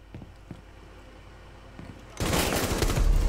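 Gunfire in the Rainbow Six Siege video game, a few faint muffled shots early on, then a loud dense burst of rapid firing takes over for the last second, no voices heard.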